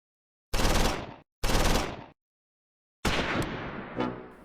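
A German light machine gun firing in the Close Combat 4 Battle of the Bulge war game: two short, loud bursts of rapid fire with a brief gap, then a third longer burst that rings out and fades.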